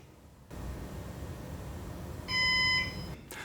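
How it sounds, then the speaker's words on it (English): A single electronic beep from a Synology NAS starting up, a steady tonal chirp lasting about half a second, sounds over a constant fan-like hum. "All right, and there was the beep."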